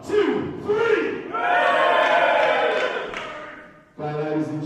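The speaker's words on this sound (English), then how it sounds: "Let's have our biggest cheer we can have in three." A wrestling show crowd at Ironfist Wrestling bursts into a loud, sustained cheer of shouts and yells that briefly dips, then surges again.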